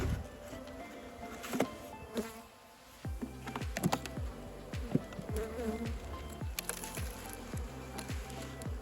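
Feisty honeybees buzz at a small hive of two to three frames, a close, continuous drone with sharp individual wingbeat whines passing near and fading.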